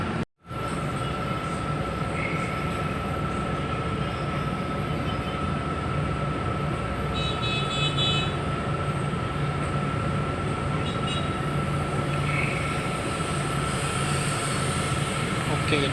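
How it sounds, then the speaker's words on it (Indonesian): A commuter train pulls out of Tebet station in Jakarta with a loud, steady rumble of wheels and carriage noise that holds without a break throughout, and a high squeal rings faintly above it. "Oke, ini kita diberangkatkan dari stasiun Tebet 2 ya."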